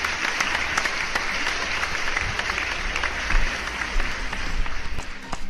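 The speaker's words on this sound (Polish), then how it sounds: "Wielkie, ale to wielkie brawa." An audience applauds steadily, a dense, even patter of many clapping hands that holds at a constant level throughout with a few louder swells.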